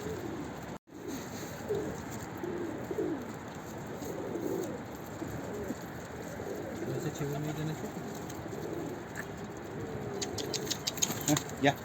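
Pigeons coo softly in low, rolling murmurs against a steady background hum, with some faint chatter and a few brief rattles near the end.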